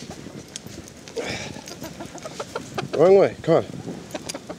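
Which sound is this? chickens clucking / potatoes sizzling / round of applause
chickens clucking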